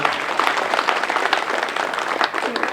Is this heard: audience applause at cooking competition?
yes